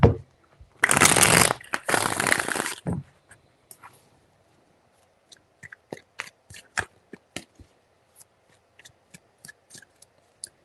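A deck of tarot cards is shuffled in two loud, close riffling bursts of fluttering card noise, then quieter scattered taps and slaps as cards are handled and laid out.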